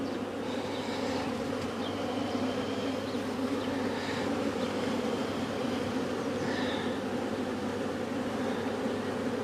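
Honey bee swarm buzzing around hive frames, a dense continuous hum of many bees close by, steady and unbroken with no voices.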